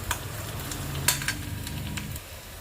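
Ginger, garlic and the white part of spring onion fry in a spoonful of oil in a pan for a veg Manchurian sauce, giving a steady close sizzle broken by light stirring clicks.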